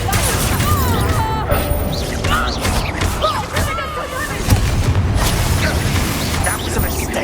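Incendio fire spell blasts in the Hogwarts Legacy video game, loud crashing and booming impacts layered with shouted game dialogue and busy combat effects throughout.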